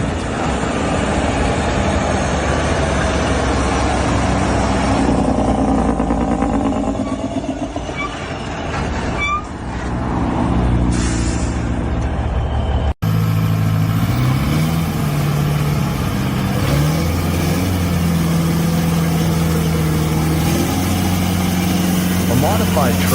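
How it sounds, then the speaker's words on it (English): A heavy tractor hauling a load of large logs through a forest at dusk, its engine roaring steadily with a deep, constant drone. Talk runs over it, and the tone shifts partway through. "a tractor loaded with large logs was driving through the forest, the roar of its engine showing its power."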